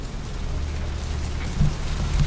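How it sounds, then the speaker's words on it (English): Steady rain in the video game Vampire: The Masquerade – Bloodlines, a dense, even hiss of falling water that runs without a break, with a couple of soft low thumps near the end. "This rain is the pungent sewage of hell seeping into the cracks of this putrid purgatory."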